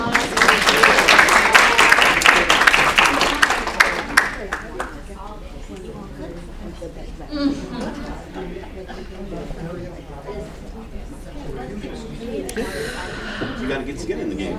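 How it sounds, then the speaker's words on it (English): Audience applause at a policy panel on student loans, a strong round of clapping for about four seconds that fades into a few scattered claps, with people talking over the tail. "let's give them a round of applause"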